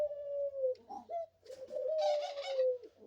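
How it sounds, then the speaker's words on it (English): A pet dove coos softly and steadily for a few seconds close by, with a low sustained tone broken by brief shifts, while faint higher rustling sounds come and go in the background. "What are you cooing about?"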